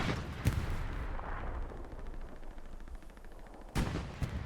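Rapid bursts of machine gun fire in the World War II shooter Hell Let Loose, a sharp nearby volley opening and another at the end, with distant gunfire and battle rumble rolling steadily between them.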